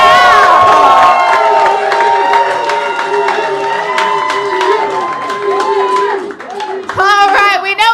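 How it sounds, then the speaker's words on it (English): A comedy roast battle crowd at a Pride show claps and cheers loudly to vote for a winner, sustained whoops and shouts over a dense wash of clapping, with a voice cutting in near the end. "if you think Caleb won, clap it up right now."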